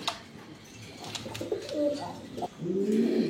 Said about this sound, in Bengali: টেকজন কবুতর আর এক জোড়া আছে